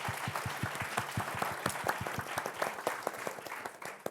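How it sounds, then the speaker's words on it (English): An audience at a summit postgraduate panel gives the panelists a round of applause, steady, moderately distant clapping with individual claps rapidly overlapping for several seconds. "let's give a proper round of applause to these guys"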